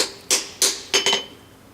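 Four sharp, ringing hammer blows land on a forge weld seam of a hand-forged Lewis lifting piece, the third and fourth struck in quick succession, close and clear with no talk.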